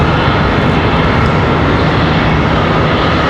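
An American Airlines airliner departing Charlotte Douglas for Nashville, its engines a loud, steady roar that fills the air without a break.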